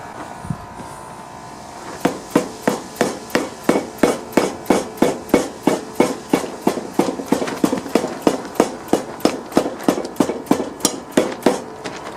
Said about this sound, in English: I'll get that that dead blow hammer and lightly hit them